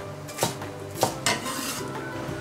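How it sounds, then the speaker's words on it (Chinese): A knife chops scallion whites on a board, with three or four distinct sharp knocks over a quiet kitchen background and no talking. "先把葱白切成葱花"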